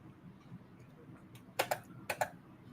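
Typing code on a computer keyboard, a few quiet close key clicks followed by two paired bursts of sharper keystrokes over a low room hum.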